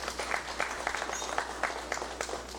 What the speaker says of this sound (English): let's also give him a round of applause